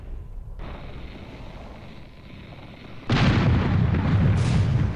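Cannons fire cannonballs aboard an airship in the game Air Buccaneers, a continuous roar of heavy booming that surges louder and denser partway through, close and sustained with no clear gaps between blasts.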